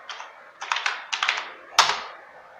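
Keystrokes on a computer keyboard while typing a project name in an MS Word document: short bursts of clustered clicks separated by pauses, ending with one firmer key press, close and clear with no voices.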